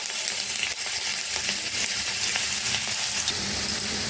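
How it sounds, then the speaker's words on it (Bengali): Chopped onions fry in a pan of oil, producing a constant close sizzle with scattered crackles and faint stirring scrapes, alone without speech. "এবার পেঁয়াজ কুচি দিয়ে দেবো।"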